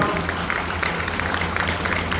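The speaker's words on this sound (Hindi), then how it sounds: "अगर स्वागत कर सके तो ताली बजा के" An audience claps to welcome an official at a public event in Rajnandgaon, dense steady applause from a crowd with voices mixed in beneath it.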